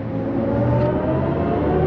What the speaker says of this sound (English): we've switched on the engine sound mode which basically is going to make some weird tron noise as we go